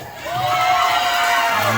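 A crowd at a comedy show whoops and cheers loudly, with one long rising shout over the din and excited voices throughout.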